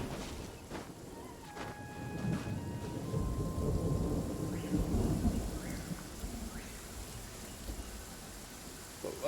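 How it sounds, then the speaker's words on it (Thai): Rain and rolling thunder in the video game Genshin Impact, steady rainfall with low rumbling thunder swelling and fading, quiet and ambient with faint tonal game sounds. "เดี๋ยวฝนตกใส่อย่างนี้เลยเหรอ"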